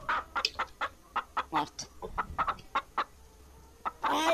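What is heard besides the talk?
chickens clucking in video game Guild Wars 2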